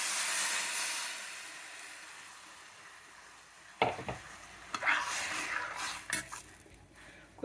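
Tomato juice is poured into a hot pan for tamata charu, giving a sudden loud hissing burst with light metal clatter after a quiet stretch, then softer sizzling.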